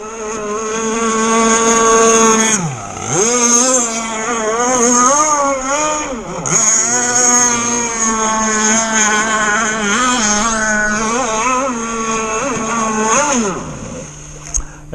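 An Insane Jersey Speed Skiff motorboat engine revs hard on the water, loud and close, its tone swooping up and down through repeated throttle blips and sustained high-pitched roars.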